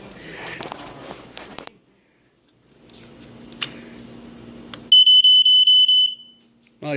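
Sunbeam 945 61 smoke detector being tested: after some handling noises and a pause, a rapid series of loud, piercing electronic beeps sounds close by for about a second, then stops.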